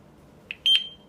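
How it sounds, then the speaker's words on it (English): A couple of short, high electronic beeps from a home alarm system battery being activated chirp close by against near silence, the second slightly longer. "And it's supposed to beep, so we know the battery is activated"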